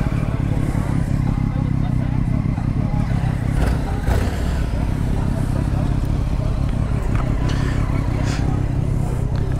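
Suzuki GSXR 600 motorcycle engine running steadily at a senior parade, a loud continuous rumble close by, with voices talking over it.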